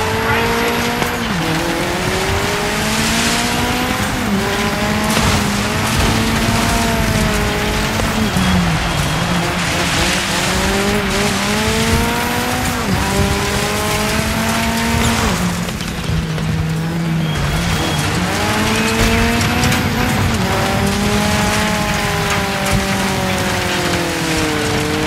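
Peugeot 205 T16 Evo 2 rally car racing in DIRT 5, its engine note rising and falling through gear changes with tire squeal, loud and continuous for the whole stretch, with a voice talking over it at times.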